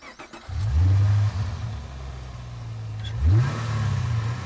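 A 2011 Camaro SLP 585 engine roars up in revs and pulls hard, its loud, close exhaust note climbing in pitch, easing briefly, then surging again under acceleration with no one speaking.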